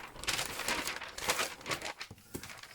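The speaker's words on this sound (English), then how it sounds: "a bit noisy isn't it, some of this paper" Paper crinkles and crackles up close while a junk journal is being crafted, with irregular bursts of rustling and crumpling that keep going with no voices.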